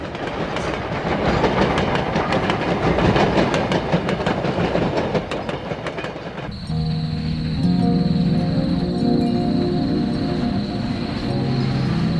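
A steam train on the Grand Canyon Railroad rumbles past on the rails with a rhythmic clickety-clack, loud and near, then shifts to a steadier mechanical hum with a faint whine.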